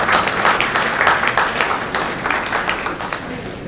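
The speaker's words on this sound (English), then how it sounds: "Huge round of applause, please." A corporate summit audience gives a panel discussion guest a sustained round of applause, dense hall clapping that is moderately loud and fades slightly toward the end.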